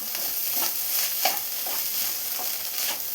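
Egg thoran with curry leaves being stirred as it fries in a pan: a soft continuous sizzle with repeated scraping stirs at a moderate pace, close up and quiet, with no talk.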